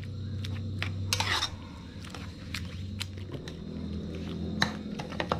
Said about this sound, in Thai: แล้วเราก็ผัดเต้าเจี้ยวนะครับกับกะทิจน หมูของเราสุกนะครับเพื่อน